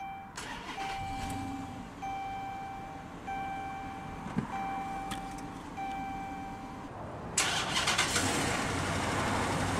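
A 2014 Chrysler 300C is started by push button while chimes beep at steady intervals, then the engine catches with a sudden loud burst near the end and settles into a strong, steady run.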